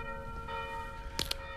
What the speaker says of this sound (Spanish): Las campanas.